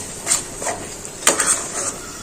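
Sugar-free carrot halwa with cardamom powder being stirred in a pan, a few close scraping and clinking strokes of a spoon against metal, alone without talk.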